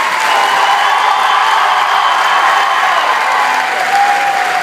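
A concert crowd applauds and cheers for the singer at the Casino in Lille, a loud, continuous wash of clapping and crowd noise from start to finish.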